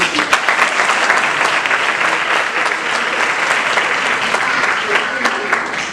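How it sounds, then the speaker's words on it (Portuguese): Steady, loud applause from a church congregation fills the space for several seconds, with a few voices audible under the clapping. "Uma salva de palmas para o Arthur."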